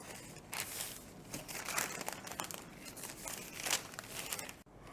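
Cloth being folded and handled by hand during sewing, with soft rustling, crinkling and brushing sounds in irregular bursts, fairly quiet and close, with no talk.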